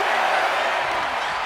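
A wrestling crowd in the WWE 2K25 video game roars and cheers at a steady, loud, dense level across a short stretch, with no distinct claps or pauses.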